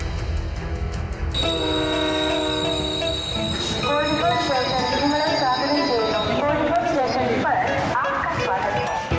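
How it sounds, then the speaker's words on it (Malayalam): A new passenger train pulls into platform 4 at Kozhikode station, its horn sounding in long sustained blasts over loud rumbling wheels and squealing brakes, close and dominant, with steady station noise throughout. "കൂകി വിളിച്ച് പുതിയ പാസഞ്ചർ ട്രെയിൻ കോഴിക്കോട്ടെ 4-ാം നമ്പർ പ്ലാറ്റ്ഫോമിലേക്കെത്തി."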